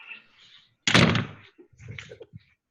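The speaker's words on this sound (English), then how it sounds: "It shut the door." A door bangs shut in a home during a family Easter gathering on a Zoom call, one close, solid thud followed by fainter knocks and muffled room sounds.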